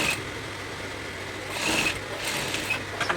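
A sewing machine runs a short stitch along the organza sleeve of a kimono, a steady whirring buzz that surges briefly louder midway, then continues in short bursts close at hand.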